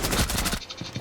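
Gunfire in the video game Old Oregon, with a rapid burst of shots that cuts off abruptly and then some quieter, scattered pops.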